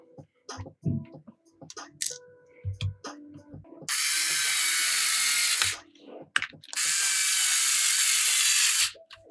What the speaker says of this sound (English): we'll flip over and put the remaining screws in